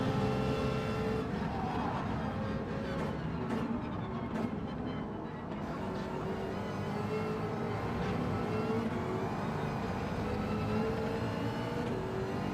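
A race car roars around a track in Gran Turismo 7, engine droning at high revs with steady, continuous tone and slight pitch sweeps, close and alone without voices.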